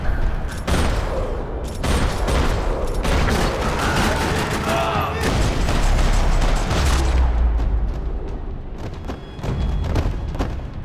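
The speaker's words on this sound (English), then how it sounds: "Another parking lot rattling with gunfire." Dense, sustained gunfire rattles almost continuously in a parking lot in the game Max Payne 3, heavy bursts overlapping with booms and thuds, with voices shouting in the mix.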